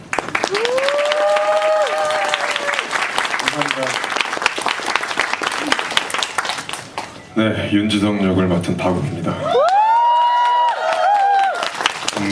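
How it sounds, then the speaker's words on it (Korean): A theatre audience at a musical's closing-performance curtain call claps in a steady, lively wash while someone speaks over it, with sung or musical tones rising in and out at times. "오늘 스태프분들하고 너무 고생 많으셔가지고 박수 한 번."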